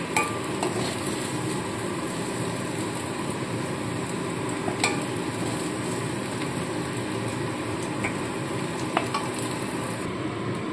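Fried taro (gati kochu) pieces are lifted out of a pan of hot oil, with a constant close sizzle and occasional scraping and clinking of a utensil against the pan over roughly eleven seconds.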